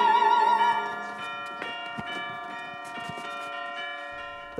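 Orchestral bells from Britten's opera Albert Herring, the vicarage garden scene where the May King is crowned, ring out in sustained, loud overlapping tones that gradually soften within a rich orchestral texture.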